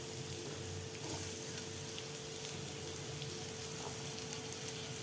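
Chopped large onions sizzle in hot oil for a mutton intestine curry masala, a soft, steady crackle of frying that runs quietly and evenly throughout with no talking.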